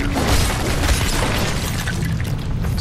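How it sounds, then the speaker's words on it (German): A dynamite blast in LEGO Fortnite, a dense, loud rumbling boom that fills the whole stretch without a break, with debris-like crackle layered on top and no voices. "Hat der sich selbst in die Luft gesprengt?"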